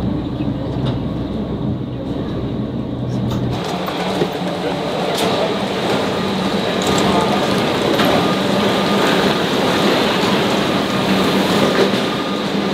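Steady rumble and rattle of a moving train bound for London from inside a carriage, a constant close hum with faint clicks and voices murmuring underneath.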